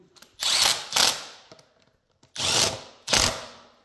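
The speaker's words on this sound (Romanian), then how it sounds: "doar strângem aceste șuruburi" Bolts being tightened on a motorcycle's Cycra front disc cover with a ratcheting tool, four short rasping bursts in two pairs, close and fairly loud, separated by pauses, with no talking.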